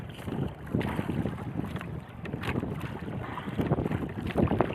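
Strong wind buffets the microphone at sea while waves slosh against a small fishing boat, a steady rough roar with surging gusts throughout.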